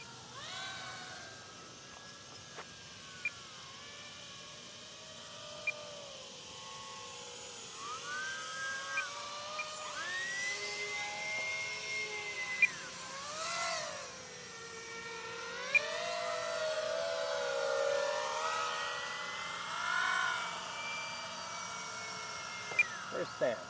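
A radio-controlled model airplane flies overhead outdoors, its thin motor whine rising and falling in pitch as it passes back and forth over about twenty seconds, fairly distant and faint, with occasional clicks and background noise.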